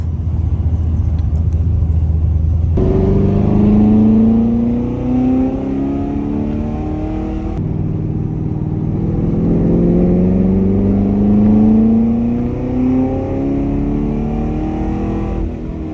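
A Camaro with a GPI 416 engine lapping a race track, its loud, steady V8 roar rising and falling through repeated accelerations and gear changes, heard up close from inside the car, with no one talking.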